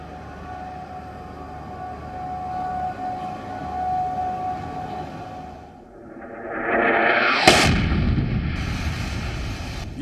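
A security siren wails across Baghdad after a rocket attack, a steady tone rising in pitch and growing louder over the final seconds amid a broad wash of rumbling background noise.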